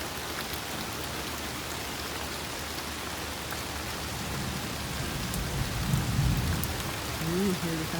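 Steady rain hisses on surfaces while a low roll of thunder swells and grumbles midway, fairly distant and muffled.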